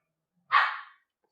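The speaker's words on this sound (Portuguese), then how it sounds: "tem um bichão latindo aqui." A single large dog barks once, sharp and fairly close, a lone short burst against an otherwise silent indoor background.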